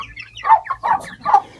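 Three short, loud rhythmic rooster calls from a farm flock that includes Sumatra chickens, close to the listener with no talking.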